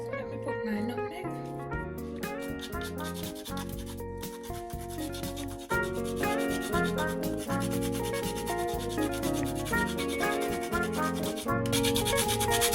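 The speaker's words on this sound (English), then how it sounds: "Right, my nutmeg grater." A nutmeg is rubbed against a nutmeg grater in quick, rhythmic rasping strokes, steady and close throughout, mixed under music and talking.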